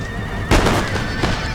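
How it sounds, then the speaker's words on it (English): Cavalry horses neigh in an Empire: Total War battle: a loud whinny bursts out, then a shorter second call follows a moment later over a steady low battlefield rumble, with no talking. "they just shot a bunch of my horses right there"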